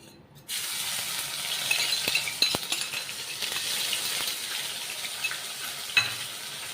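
Crushed ginger, chilies and garlic sizzle loudly the moment they hit hot oil, then settle into a steady fry broken by a few clicks of stirring.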